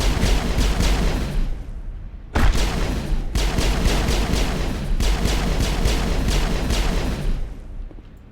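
Grenades detonate in the Mass Effect video game, with loud, sharp bursts repeating every second or so over continuous rumbling combat noise, and no voices.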